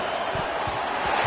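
Football stadium crowd roaring during a defensive red zone stand, a dense, steady wall of cheering and noise with faint rhythmic thumps underneath.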